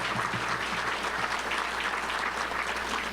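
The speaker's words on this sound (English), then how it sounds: "Let's give him another round of applause if you could" Sustained applause from a luncheon audience at the Little Rock Touchdown Club, greeting Arkansas Governor Asa Hutchinson: dense, steady clapping that fills the room for the whole stretch, with no speech over it.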